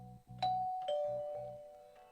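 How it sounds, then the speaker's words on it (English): Doorbell in an audio drama: a two-tone ding-dong, a bright first chime followed by a lower second tone, each ringing out and fading slowly in a quiet room with a faint low hum beneath. "I rang Sanjo's bell."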